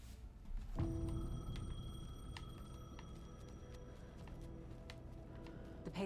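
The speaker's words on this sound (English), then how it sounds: "The payphone was ringing." A payphone rings in the video game Alan Wake 2: a bell-like ring starts abruptly and repeats steadily over a low, dark ambient background, with no speech.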